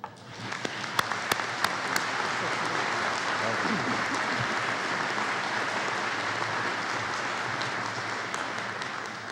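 A commencement audience at a law school ceremony applauds to welcome the speaker, steady dense clapping throughout, loud and close, with a few sharper claps standing out near the start.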